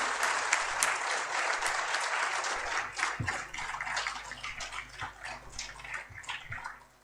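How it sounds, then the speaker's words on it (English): Sustained applause from an audience at a book launch, a dense patter of many hands that gradually thins and fades toward the end. "if we can give everybody, the panel, a round of applause."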